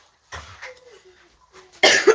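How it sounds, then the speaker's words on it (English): Two short coughs in a quiet room, a soft one early and a sharper, louder one near the end, with a faint voiced hum between them. "We all have cough in this house."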